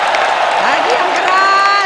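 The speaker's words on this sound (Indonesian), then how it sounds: "Mana tepuk tangannya untuk Pak Jokowi?" Crowd at the Bulan Bung Karno commemoration applauding Indonesian President Jokowi: a dense, steady wash of clapping and cheering that holds for the whole moment, with voices and tones rising over it.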